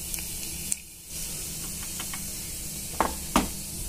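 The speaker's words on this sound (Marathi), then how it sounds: "इथे आता आपलं तेल तपलेलं आहे, तर मी इथे थोडं जिरा मोहरीची फोडणी देते।" Cumin and mustard seeds sizzle in hot oil for a dudhi bhopla bhaji, a steady close hiss with a few sharp crackles and pops near the end.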